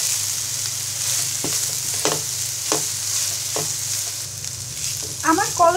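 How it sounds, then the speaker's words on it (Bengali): Boiled kolai greens frying with onions in a pan, a steady close sizzle with a few spatula stirs and scrapes spaced through it, ending in a brief flurry of clatter. "এবার পেঁয়াজগুলোর সাথে শাকটাকে ভালো করে ভেজে নিব।"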